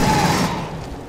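Gunfire in the sci-fi shooter game Aliens: Colonial Marines, a dense burst of weapon reports that stays loud for the first half second and then fades into a rumbling, washed-out tail.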